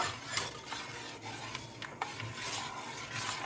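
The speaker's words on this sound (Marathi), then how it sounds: "आता हे सगळं आपण मिक्स करून घेऊ।" Solkadhi ingredients with kokum being stirred and mixed in a pot, a steady soft swishing with light clinks of the spoon against the vessel, close and alone without talk.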